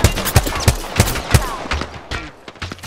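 Gunfire in Apex Legends rings out as a steady series of sharp, loud, evenly spaced shots, then a quicker, weaker flurry of more distant cracks trailing off.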